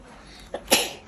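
A single sharp sneeze sounds up close, with a brief intake followed by a loud, breathy burst that trails off quickly against a quiet indoor background.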